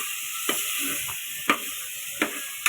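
Vegetables for sambar sizzle steadily in a pan with a bright, hissing fry, broken by four sharp clinks or scrapes of stirring spaced across the clip.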